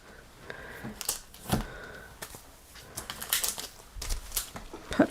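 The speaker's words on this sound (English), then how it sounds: "I don't know if you guys can hear my bird." A pet bird calling indoors during a live craft show, with a faint whistle-like call and scattered soft chirps and rustles at low level, without talk.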